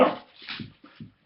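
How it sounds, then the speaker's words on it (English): Puppies whimper and yip in short bursts, with scuffling between the high cries, close to the microphone. "I'm sorry about the noise. I have puppies playing with each other."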